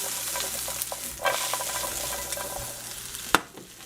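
Chopped onion and green pepper fry in a pan while being stirred, a soft continuous sizzle broken by light scraping and clinks, with one sharper knock near the end and no talk.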